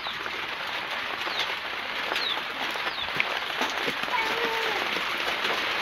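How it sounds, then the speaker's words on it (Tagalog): Rain beginning to fall outdoors, a steady soft patter of drops with scattered bird chirps in the background. "Umuulan na, guys."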